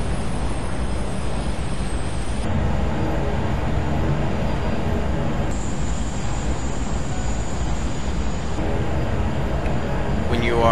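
Simulated jet engine reverse thrust in Flight Simulator X, a loud, steady broadband roar that holds level throughout with no pauses, like heavy engine noise from a landing rollout.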